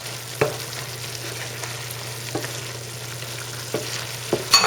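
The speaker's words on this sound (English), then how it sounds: "Now I'm going to stir it around a little bit." Vegetables are stirred through a thickening glaze in a pan, with a low bubbling simmer and a few sharp scrapes and clinks of the utensil spaced out across the clip.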